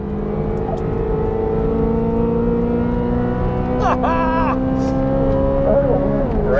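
A 2023 Corvette Z06 pulling hard at wide-open throttle up a track corner, the engine tone rising steadily and loud up close, with a brief shift-like change near the end and a voice talking under it.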